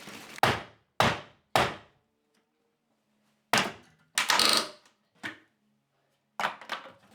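A hammer strikes hard inside an old cottage under renovation, giving sharp, loud thuds with ringing decays. Three quick blows come first, then a pause, then several more irregular strikes, with no one speaking.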